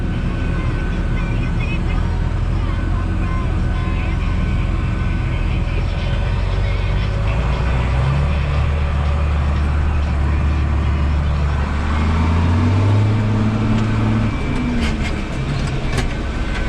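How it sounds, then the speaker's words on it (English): Claas 820 forage chopper harvesting corn and alfalfa silage beside barns, a loud continuous heavy mechanical roar and rumble with a low engine tone shifting pitch partway through. "So we are chopping right beside the barns here."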